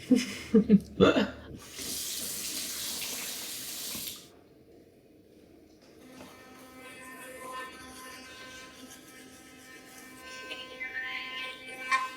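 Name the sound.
tooth brushing after tongue scraping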